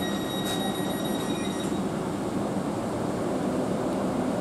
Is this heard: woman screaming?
no